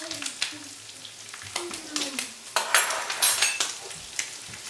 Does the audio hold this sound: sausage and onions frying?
yes